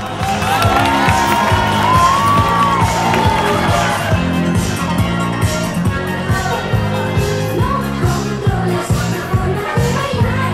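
At a Guateque party in Salvaterra de Miño, a crowd cheers and applauds, whoops and clapping rising over loud, steady dance music with a thumping beat.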